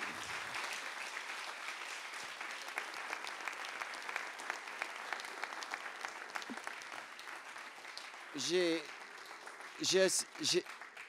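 Applause fills a conference hall in France, a steady, fairly faint wash of many hands clapping throughout, with a few louder bursts of nearby sound toward the end.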